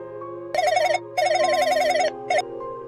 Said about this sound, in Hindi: तभी सेठ धनपत का फोन बजता है।